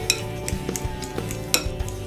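Guacamole being stirred and mixed in a bowl with a utensil, giving close, irregular scraping and tapping knocks against the bowl with a few sharper clinks, alone without talk.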